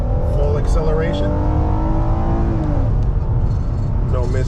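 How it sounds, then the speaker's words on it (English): A 2015 Ford Explorer Police Interceptor with all-wheel drive accelerates hard on a wet road, its engine note rising steadily through the gears up close, with rain and tire hiss underneath and someone talking over it. "Full acceleration."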